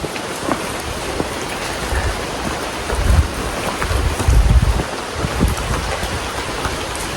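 Light rain falling steadily outdoors on a cool day in the rural Philippines, a soft continuous patter with occasional drops and wind buffeting the microphone, a few low rumbles swelling midway; no talk.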